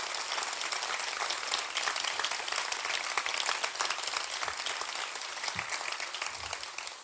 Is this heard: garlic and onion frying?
no